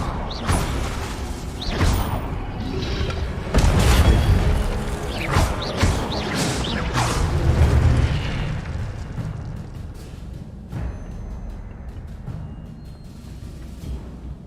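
An Incendio fire spell is cast in Hogwarts Legacy and goes off as heavy booming bursts with whooshes and crackling pops. The noise swells to a loud, dense peak midway, then fades into quieter rumbling.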